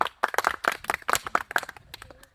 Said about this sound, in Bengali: একটু জুড়ে সুরে হাততালি হোক